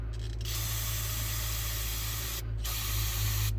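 Carb cleaner sprays into the carburetor of a Ford F-250 with a 390 engine in a near, continuous aerosol hiss, broken by two brief pauses in the spray.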